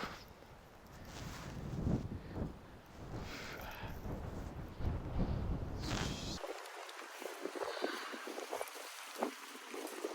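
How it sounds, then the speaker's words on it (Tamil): Strong monsoon wind on a hilltop buffets the microphone in heavy, uneven gusts for several seconds, then drops to a thinner rushing background with a few faint knocks. "என்ன அடி அடிக்குது காற்று"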